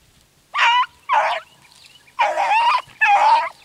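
Hunting dogs bark outdoors along a rocky edge, four bursts of loud, close barking or baying in uneven pairs with short quiet gaps between them.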